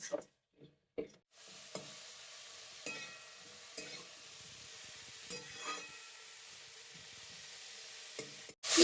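Broccoli fries in a pan with a soft, steady sizzle, broken by a few stirring scrapes and light clinks of a utensil, fairly quiet and close.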